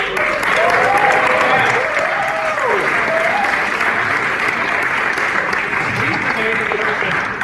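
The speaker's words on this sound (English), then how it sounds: "can we give him a round of applause?" Loud, sustained applause from a crowd at a music clinic fills the whole stretch, with scattered voices and cheers rising over the clapping.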